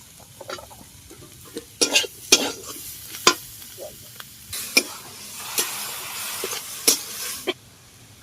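Chopped onions sizzle in a pan with turmeric and chilli for dalia khichdi, a soft steady fry punctuated by repeated sharp scraping strokes of a spoon stirring, close up with no talk.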